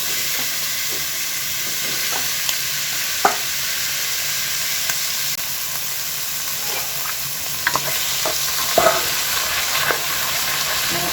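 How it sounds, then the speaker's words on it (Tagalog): Octopus cooks in a pan with a steady close sizzle and occasional soft scrapes and clicks as it is stirred, and no one speaks. "Lagay na natin yung octopus."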